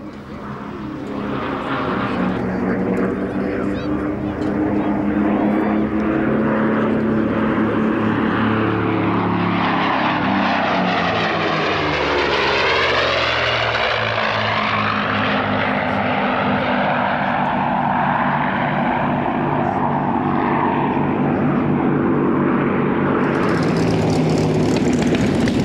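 A WWII fighter fitted with a Rolls-Royce Merlin engine roars past overhead, its loud propeller-engine drone rising and falling in pitch with a clear Doppler sweep as it flies by at an air show.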